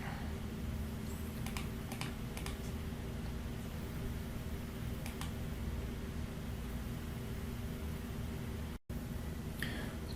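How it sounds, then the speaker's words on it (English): Computer keyboard keys click in a few scattered presses over a steady hum of fan or room noise, with short quiet gaps between strokes. "press the delete button on your keyboard"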